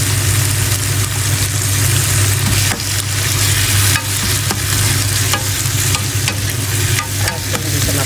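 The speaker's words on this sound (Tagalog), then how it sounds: "Ayan, nagluto-luto na po ang kamatis." Chopped tomatoes sautéing in a pan while cooking bitter melon: a steady, loud sizzle and fry with occasional stirring scrapes over a constant low hum.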